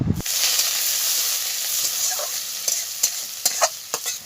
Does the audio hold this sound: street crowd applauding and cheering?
no